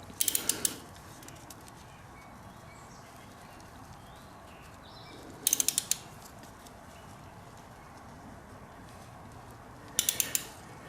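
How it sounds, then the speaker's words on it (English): A torque wrench tightens bolts on a Honda VTX 1300R motorcycle during an oil and filter change, three brief bursts of rapid ratcheting clicks spaced well apart against a quiet background. "I'm going to have to get my torque wrench in here and get them torqued"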